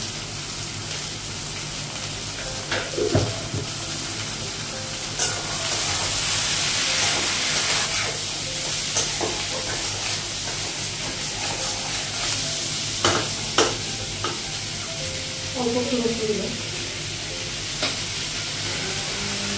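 Onion and chickpeas frying in a pan as turmeric and salt go in: a constant close sizzle with stirring scrapes and occasional sharp clinks of the utensil against the pan.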